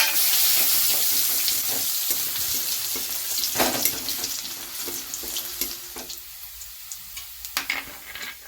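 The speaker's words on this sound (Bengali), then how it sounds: "এবার এই তেলের মধ্যে আমরা থেতো করা রসুনের কোয়াগুলোকে ভেজে নেব।" Crushed garlic cloves sizzling in hot oil in a wok, a loud hiss at first that eases, broken by scattered clinks and scrapes of stirring near the end.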